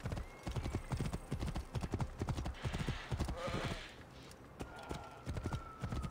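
Horse hooves clip-clop in Assassin's Creed Origins in a steady, brisk rhythm, close and continuous throughout.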